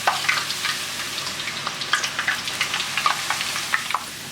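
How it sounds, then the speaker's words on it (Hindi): Chana dal deep-frying in small batches in hot oil, a continuous close crackling sizzle with rapid bubbling pops throughout and no voices. "तो इसको यहाँ पे फ्राई करते हैं इस तरीके से थोड़ा थोड़ा करके बैचेस को"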